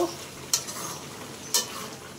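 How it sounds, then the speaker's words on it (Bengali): Pangas fish head curry with Malabar spinach is stirred in a pan, with two brief scraping strokes about a second apart over a low, steady sizzle and no talk. "এখন একটু নাড়াচাড়া দিয়ে এটাকে নামিয়ে নেব"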